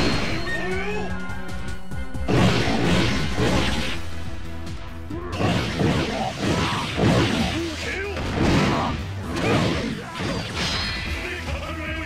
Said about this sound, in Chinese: 踩上去就会爆炸，但因为有自动防御，所以很难被炸死。